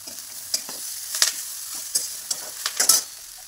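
Soaked potatoes frying and being stirred in a pan for potato poha, with quiet sizzling broken by a series of short scraping stirs and spatula knocks.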